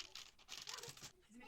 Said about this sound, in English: Love the sound of peeling that plastic paper, the bottom side.